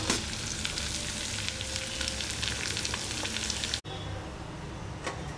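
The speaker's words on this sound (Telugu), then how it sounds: "ముందుగా నెయ్యి వేసుకొని ఈ నేతిలో మనం సిద్ధం చేసుకున్నటువంటి డ్రై ఫ్రూట్స్ అన్నిటిని వేసి మంచిగా బ్రౌన్ కలర్ వచ్చేటంత వరకు వేయించుకోవాలి." Dry fruits frying in ghee for Hyderabadi sheer khurma, a soft continuous sizzle with faint crackle, briefly cut off near the end before resuming.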